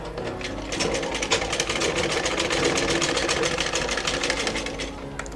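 A sewing machine stitches elastic onto a cloth face mask, its needle hammering in a fast, even rhythm close up with a steady motor whir throughout and no talking.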